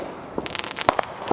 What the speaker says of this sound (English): Fireworks across the globe.